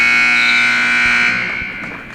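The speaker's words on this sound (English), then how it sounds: "they could have put a good buzzer in here. Yeah. That thing is loud." A loud, steady electronic gym buzzer ending a high school wrestling period blares for about two seconds, then fades out.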